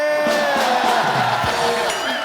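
Studio audience of a TV comedy show cheering and whooping loudly over a musical sting, an excited crowd roar near and continuous for a couple of seconds.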